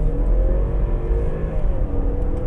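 A 2015 Ford Escape with a 2-liter turbo engine surges under kickdown acceleration, a loud, steady engine roar and drone holding throughout without a break.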